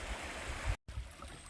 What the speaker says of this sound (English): Maybe this is the Roaring Forks River.